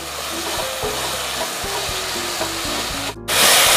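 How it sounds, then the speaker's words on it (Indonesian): A spice paste is stir-fried in a pan for vegetable lodeh with tofu and long beans, a steady scraping and sizzling texture with repeated knocks of the spatula, close and continuous, with a brief louder hiss near the end. "ditumis-tumis sampai bumbunya ini matang sampai aromanya harum"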